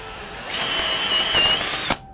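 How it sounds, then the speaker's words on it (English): An electric drill boring into a wooden box blank for a woodworm screw chuck, a close steady whine that rises in load midway and cuts off abruptly near the end. "I'm just going to go ahead and drill it now is when it's easier to hold on to"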